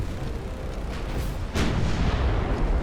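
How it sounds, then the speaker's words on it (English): Naval shell hits, including a 6-inch shell, striking ships during a battleship clash in Ultimate Admiral Dreadnoughts: steady battle rumble, then a single loud, broad impact boom about midway that leaves a heavier roar behind it. "that was a 6-inch shell causing more damage"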